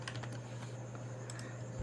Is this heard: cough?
no